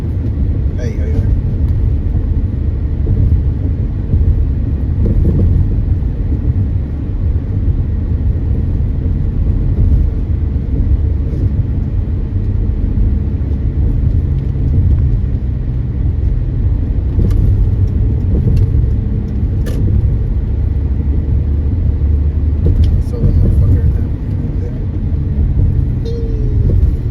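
Heavy road traffic with many cars passing, a dense continuous low rumble of engines and tires throughout, loud and steady.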